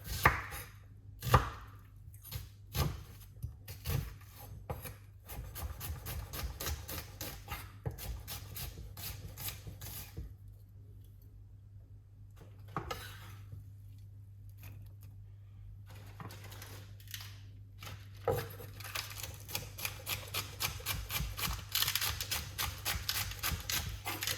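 A knife chops purple onion on a board for a cucumber, tomato and avocado salad: quick, even, close-up cuts in rapid runs, broken by short pauses, fairly quiet and with no talk.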